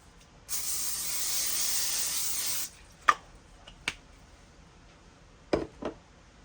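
A steady hiss of cooking spray onto aluminum foil runs for about two seconds, followed by a few sharp clicks and light taps nearby.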